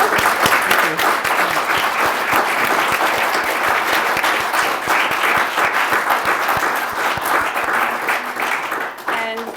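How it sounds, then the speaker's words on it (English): Loud, close applause for the panelists at a literature and culture event, a dense crowd clapping steadily for several seconds before tapering off at the end, with some voices mixed in. "Let's give them a round of applause"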